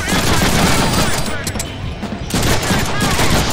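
Dense, loud gunfire rattles continuously in the Deadpool video game, with rapid overlapping shots and bursts filling the whole stretch under faint talk.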